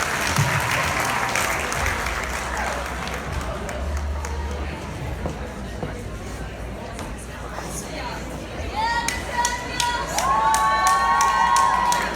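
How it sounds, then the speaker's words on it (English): Audience applauding at a high school sports banquet for a girls volleyball team, steady sustained clapping with crowd cheering, shouts and whistles rising toward the end. "Let's give another round of applause for the best and great girls volleyball team."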